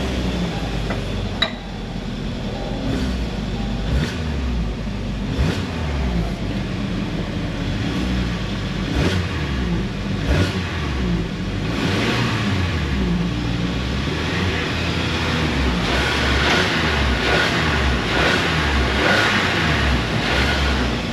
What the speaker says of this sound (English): random misfires here and there from just about every cylinder except for 3